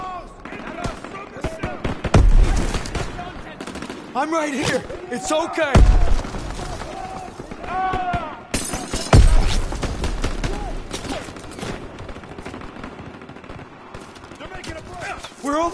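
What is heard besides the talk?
gunfire, machine gun fire in WWII battle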